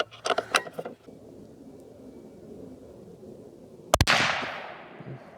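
A CZ rifle fires a single 7.62x39 S&B full metal jacket round, a sharp loud crack with a short ringing tail, preceded by light metallic handling clicks.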